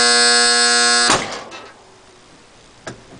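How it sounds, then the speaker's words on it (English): A heat press buzzer sounds loudly with a steady tone for about a second, then cuts off, followed by a faint click or thud. "As soon as the buzzer goes off"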